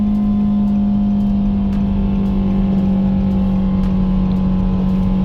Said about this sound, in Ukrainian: Зараз ми з вами спробуємо розгін від нуля до сотні.